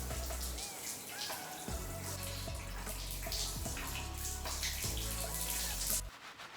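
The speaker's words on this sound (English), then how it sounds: "I'm going to first of all wet my hair with warm water" Warm tap water runs steadily in a bathroom as hair is wetted, a continuous splashing wash with scattered drips and clinks, close and fairly loud, cutting off abruptly near the end.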